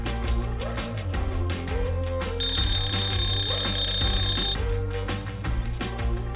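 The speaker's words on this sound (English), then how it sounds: "He can set a countdown timer to help you track with your work." An Eilik desktop robot's countdown timer alarm sounds as a steady electronic ringing tone lasting about two seconds mid-clip, moderately loud over continuous background music.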